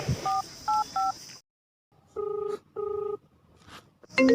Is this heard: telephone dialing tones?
yes